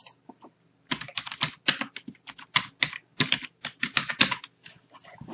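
A computer keyboard is typed on in quick, irregular bursts of close, crisp key clicks with brief pauses between, as a username and password are entered, with no voices.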